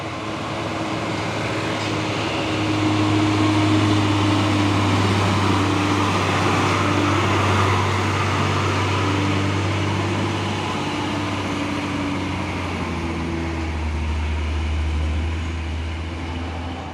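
A Hino trailer truck labours up the steep Bukit Korok hill in daylight, its engine a loud, steady low drone whose pitch holds and shifts slightly as it strains, with road noise throughout.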